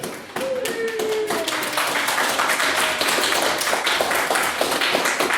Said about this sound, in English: we've really got to make the effort for every round of applause, otherwise it's going to be really sparse and miserable